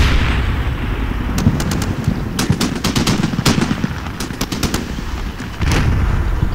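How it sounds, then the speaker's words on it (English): Combat Mission: Shock Force battle with suppressing gunfire and 105mm Stryker fire: rapid rattling shots and sharp cracks layered over a constant heavy rumble of distant artillery, loud and dense throughout. "And I also increase suppression fire, including some fire from the 105mm strikers."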